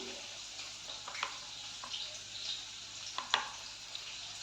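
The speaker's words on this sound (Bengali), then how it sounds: "ক্যাপসিকামটা ভাজা হতে হতে" Capsicum fries in a pan with a faint, steady sizzle, broken by a few soft clinks and scrapes of stirring.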